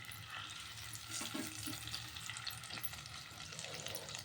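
Eggs fry in oil seasoned with turmeric, giving a steady, quiet sizzle with a few faint stirring touches in a home kitchen.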